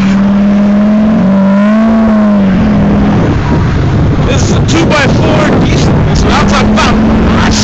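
A two-wheel-drive Isuzu D-Max pickup revs hard while peeling out on snow, engine droning and rising in pitch, with wind buffeting the microphone and people talking over it.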